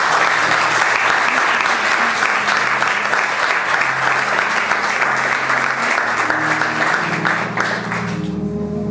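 A church congregation gives loud, sustained applause to acclaim the Lord, a dense wash of clapping that holds steady for several seconds before thinning and fading at the end.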